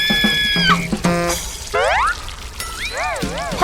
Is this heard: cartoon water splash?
yes